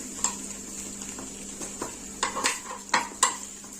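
A spoon taps and scrapes against a metal appe pan while rice appe are turned one by one. Sharp, irregular clinks come close and clear, with a soft sizzle underneath.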